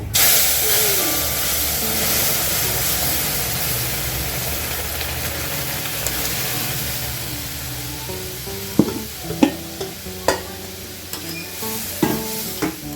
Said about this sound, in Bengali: ফোড়ন ভাজা হয়ে গেছে এখন আমি দিয়ে দেবো ডাল